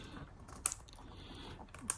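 Keyboard of a 2003 Apple iBook G3 laptop being lifted from its base: quiet plastic clicks and light rattling, with two sharp clicks standing out, close and faint.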